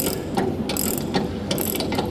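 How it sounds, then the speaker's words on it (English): A ratchet tightens the drive chain at the head section of a bin paddle sweep, producing rapid, loud, close metallic clicks in a steady repeating rhythm. "So here we're tightening up the chain,"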